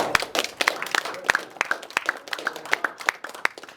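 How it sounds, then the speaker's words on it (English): Scattered applause from a small campus audience welcoming a faculty advisor, individual claps distinct and uneven, moderately near, with no talk over it. "So everyone give a round of applause for our advisor."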